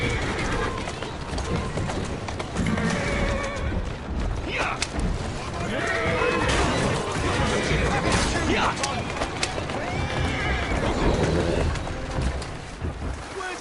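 A horse in the Assassin's Creed Syndicate video game, steady clip-clop of hooves with occasional neighing amid busy street ambience, with a voice talking over it.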